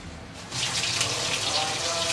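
Stuffed brinjal hits hot oil and breaks into a bright, steady frying sizzle that starts suddenly and holds close and even.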